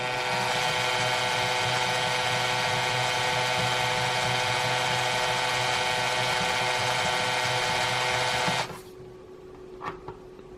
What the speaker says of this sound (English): I'm going to operate it with the drill